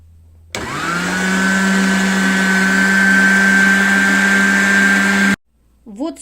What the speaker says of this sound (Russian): И теперь их нужно все пропустить через мясорубку, через